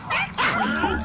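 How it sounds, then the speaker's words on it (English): A dog gives short yipping barks and whimpers, close and loud in a brief burst, with a voice overlapping. "No, that is not a book. That is a dog."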